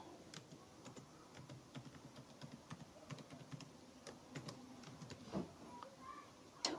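A password is typed on a computer keyboard, the keystrokes coming as quick, irregular taps, faint and close against a quiet room hiss, with no one speaking.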